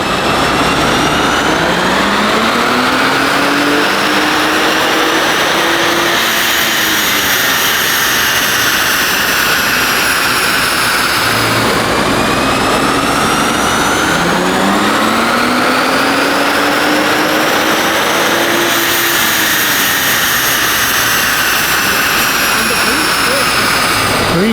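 A stock Nissan Z engine and exhaust roar loudly and continuously through two long rising rev sweeps, each climbing in pitch before dropping back, with a dense, droning tone throughout.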